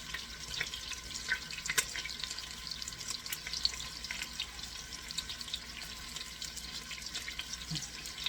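Lamb meat browns in a hot pan, giving a steady, close frying sizzle and crackle that runs throughout with a few sharper pops and no voices.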